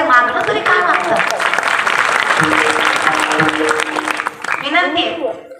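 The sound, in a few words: audience clapping at a Marathi kirtan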